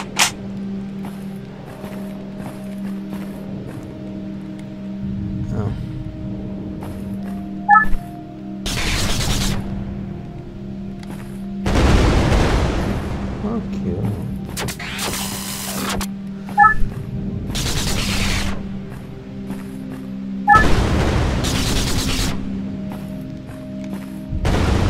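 Gunshots in the survival game The World of the Others, several loud, abrupt bursts spaced a few seconds apart over a steady low electronic hum and background music drone.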